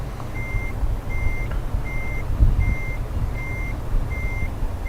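Steady reversing beeps from a truck in the Euro Truck Simulator 2 game, evenly spaced tones repeating about every half second over a low engine rumble, loud and close with no talking.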